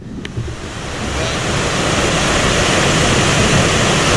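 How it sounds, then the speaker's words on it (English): A raging river rapid roars on a backcountry paddling trip, a loud continuous rush of white water that swells after the first second and holds steady, with no voices. "and then we get to a raging rapid."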